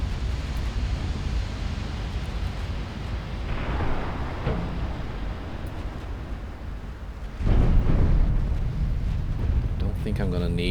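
Naval battle in the game Ultimate Admiral Dreadnoughts, with an Italian battleship firing: a continuous rumble of distant gunfire and explosions, swelling into a louder, heavier blast partway through, with a voice talking over it.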